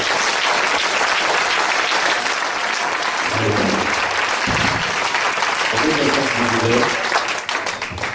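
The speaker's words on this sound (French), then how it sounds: "Est-ce qu'on peut acclamer pour le Seigneur sa sœur?" Church congregation applauding and cheering for a sister during a worship service, a steady, dense wash of clapping sustained throughout with voices mixed in.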